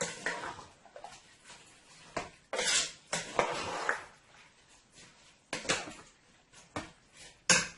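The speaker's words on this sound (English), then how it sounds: "Let's give this a nice toss here." Rice being tossed with freshly squeezed coconut milk in a pot for Guyanese pigeon peas rice, giving irregular bursts of clattering utensil-on-pot scrapes and knocks, close and fairly loud with quiet gaps between.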